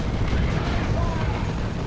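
Ork Rok artillery impacts in Warhammer 40,000: Dawn of War 2, a dense, continuous rumbling roar of explosions that stays loud and heavy throughout, with a low boom filling the mix.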